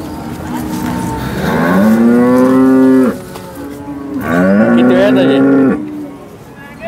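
Cows at the Sangola cattle market give two long, loud, close moos, one after another, over a background murmur of the busy market.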